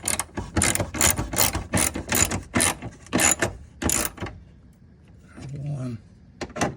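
Hand ratchet tightening the four screws that hold the washer fluid reservoir on a 2001 Toyota Tacoma, a series of rapid clicking bursts close by, then a pause with a brief voice and a final click.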